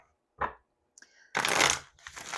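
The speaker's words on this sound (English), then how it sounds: "Just one more shuffle" Oracle cards from a Mystic Manifesting Oracle deck are shuffled in short bursts: one brief riffle, then a longer, louder crackling run of card edges, followed by a final quieter flutter, close and clear.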